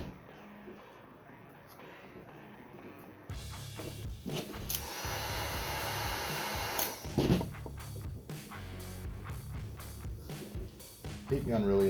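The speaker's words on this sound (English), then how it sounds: "Heat gun really is the way to go" A heat gun warms a vinyl decal on a sports helmet. After a quiet opening, a steady rushing blower hiss starts and runs on, with a voice speaking over it.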